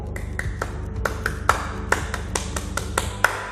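Indonesian Scouts perform the tepuk Pramuka clapping routine, a patterned series of sharp hand claps in quick rhythmic groups, close and clear over a faint low background hum.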